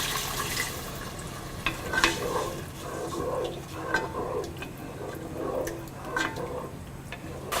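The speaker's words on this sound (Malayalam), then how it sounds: "ഇനി ഇതിലോട്ട് എടുത്തു വച്ചിരിക്കുന്ന 1 കപ്പ് ചൂടുവെള്ളം ഒഴിച്ച് നന്നായിട്ട്" A spoon stirring hot water into gobi manchurian sauce in a pan, soft scraping and ticking strokes over a quiet bubbling simmer, fairly faint and close.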